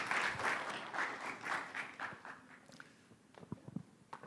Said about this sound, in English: Let's give another round of applause for our 3 startups who have given their presentations today